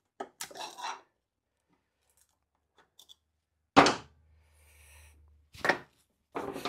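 A metal paint tin's lid is pried open with a few sharp, close knocks and clanks spread over several seconds, separated by quiet gaps, with no talking.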